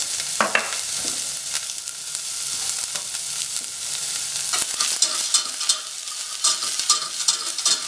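Minced shallot sweats in a pan for a Bordeaux wine sauce, giving a steady, close, soft sizzle with light scraping and stirring clicks throughout, no voices.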